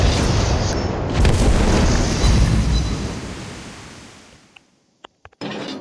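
Ship guns fire in the naval game World of Warships Blitz, a loud, close, rumbling boom that rolls and fades over several seconds, followed by a few short sharp clicks.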